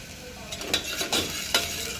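Onion and cumin stirred in hot oil in a home kitchen pan, with ginger-garlic paste going in: a steady close sizzle with a few louder scraping stirs, no talking.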